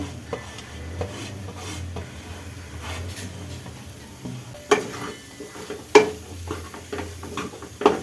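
Potatoes and sliced paneer being sautéed and stirred in a pan: a low sizzle under repeated scraping strokes of a spatula, with sharp clinks against the metal now and then.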